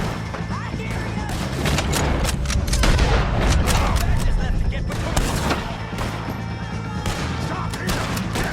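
Loud gunfire crackles in a video game shootout against O'Driscoll gang members, with repeated close shots and impacts in irregular bursts amid battle noise and shouting voices.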